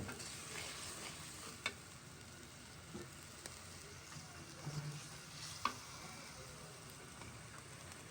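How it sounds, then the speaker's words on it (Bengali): Rohu fish cooking with tomato, salt, turmeric and chili powder as the spices are sautéed, giving a steady low sizzle with a few soft stirring scrapes and clinks, fairly faint, with no talking. "মরিচের গুঁড়া এইসব দিয়ে আজকে রুই মাছ রান্না করছে, মানে মশলাটা কষিয়ে"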